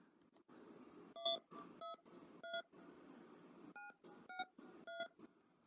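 Telephone keypad buttons pressed one after another, giving a series of short, bright dual-tone beeps in an irregular rhythm. Each tone sounds distinct, with soft background noise between the presses and no talking.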